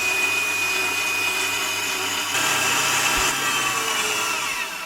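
Steady, loud electric mixer whirring continuously as it whisks cream cheese and sugar for a baked New York cheesecake, with a brief shift in pitch partway through and no talking.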